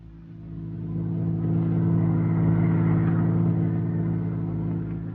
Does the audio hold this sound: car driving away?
yes